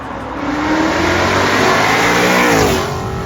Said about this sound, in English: we're out in the Mustang now doing some testing. The car is absolutely ripping.